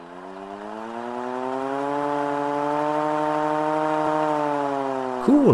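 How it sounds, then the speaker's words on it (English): A restored hand-crank air-raid siren tested deep in the woods, its loud wailing tone rising and holding steady as the rotor spins up, then dipping at the end. "we went deep in the woods with the siren, and now we're going to try to get some sound out of it"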